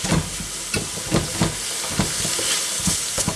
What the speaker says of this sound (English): frying these until these start to soften now